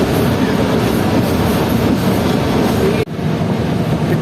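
The Marvi passenger train rumbles steadily across the Thar desert, a loud, continuous roar of wheels on rails with clattering wagons, briefly dipping before the rolling noise resumes.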